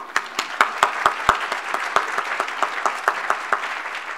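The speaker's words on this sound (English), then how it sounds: "We can applaud now." Audience members at a lecture give scattered, sparse applause, a few distinct sharp claps at an irregular rhythm rather than a full ovation, heard fairly close.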